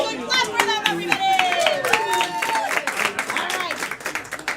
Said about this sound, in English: Good clap for them, everybody